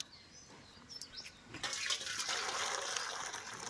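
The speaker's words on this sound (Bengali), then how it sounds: "তো আমি পোলাওর জলটা গরম করে নিয়েছি, এবার ঢেলে নেব।" Hot water for pulao is poured into a cooking pot, rising from a faint trickle to a steady, close, rushing pour that fills the second half without pause.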